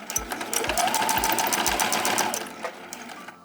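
A sewing machine stitches the seam of a fabric shoe bag, its rapid, even mechanical chatter running close and loud for a few seconds before slowing to a stop.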